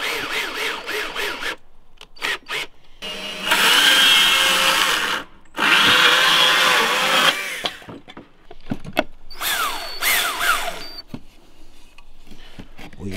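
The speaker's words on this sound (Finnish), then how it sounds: "Laitapa silleen, että sä poraat alaspäin." A Makita power drill bores into wood while a birdhouse is being built. It whines loudly in two long, steady runs, with short bursts and clattering handling sounds before and after, and voices speak briefly in between.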